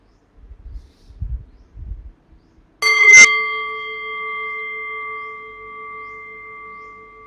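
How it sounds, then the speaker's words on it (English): A meditation bell is struck once after a few soft handling bumps, then rings out with a clear, sustained metallic tone that fades slowly over several seconds in a quiet room. "So in a few moments then I'll ring the bell"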